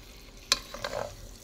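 Okra and eggplant for pinakbet dropped into a pan: a sharp clack of a utensil followed by a brief soft sizzle and shuffling stir, quiet and close with no talk.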